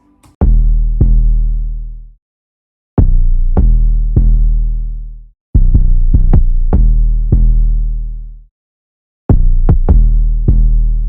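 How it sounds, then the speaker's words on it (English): Deep booming 808 bass hits from a hip-hop drum kit in FL Studio, sounding alone in short groups with long decaying tails between silent gaps. "And then I have the No Kizzy 808"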